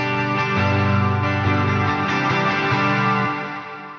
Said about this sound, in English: Repeating Great Annihilator is repeating echoes with huge reverb.